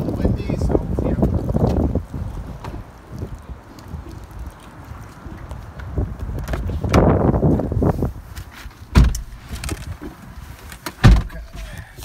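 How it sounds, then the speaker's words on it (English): Gusty wind blows outdoors beside a parked 2018 BMW i3s, buffeting the microphone in loud rumbling waves with a couple of sharp bursts, while a person talks throughout. "It's a little windy, so."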